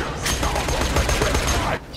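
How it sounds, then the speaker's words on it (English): Rapid, sustained automatic fire from a Borderlands 2 gun that grows more accurate as it keeps shooting, a dense, loud burst of close shots lasting about a second and a half before cutting off. "I got that gun that progressively gets accurate"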